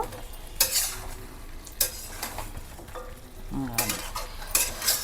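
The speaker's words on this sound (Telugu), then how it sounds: "ఇలాగే కలుపుకోండి ఒక రెండు మూడు సార్లు అయినా మూత తీసి చక్కగా కలుపుకోండి" Pepper chicken fry being stirred in a pan: a spatula scrapes through the pieces in several separate strokes over a low, steady sizzle, close and fairly loud, with no talking.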